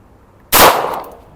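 A single sharp, loud blast from an EKOL ASI Uzi blank gun set to full auto cuts through near-silence, then rings and decays over a fraction of a second.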